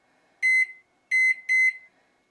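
A kitchen timer being set while baking a buttermilk pie gives three short, loud electronic beeps in an irregular pattern, clear and close with no talk over them.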